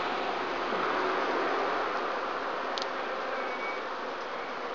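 Honey bees buzz steadily and close throughout an open WBC hive inspection, a dense continuous hum with no talking.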